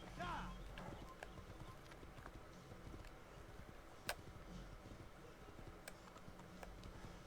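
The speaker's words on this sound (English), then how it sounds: "Come, Patch the horse." Horse hooves clip-clop steadily in the Assassin's Creed video game, a light rhythmic trot under game ambience, with people talking over it.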